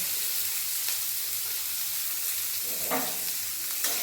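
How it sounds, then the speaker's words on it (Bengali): Onions with green chilli, ginger and garlic fry in a pan for an egg dish, giving a steady close sizzle with a few light stirring scrapes and no voices. "ভেজে নেব পেঁয়াজের সাথে"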